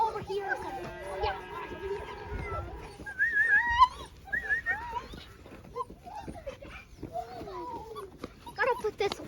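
Puppies whimper and yip in short, high, wavering cries scattered through the scene, sometimes close, mixed with people talking and moving around a village home.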